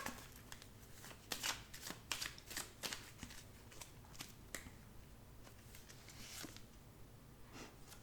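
Tarot cards are shuffled and drawn at close range, giving a run of crisp riffling flutters and soft card slaps that come in irregular bursts over a quiet background.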